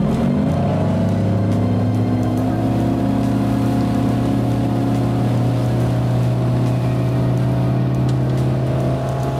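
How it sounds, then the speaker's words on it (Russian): A Yamarin 80DC motorboat with 350 hp of power accelerating on open water, its engine a loud, steady droning roar with rising tonal hum, continuous and close throughout. "интересен сам порыв лодки при разгоне"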